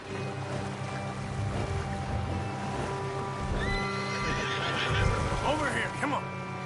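Horses whinny and neigh amid rumbling hooves and a busy background in Red Dead, with voices talking over the commotion.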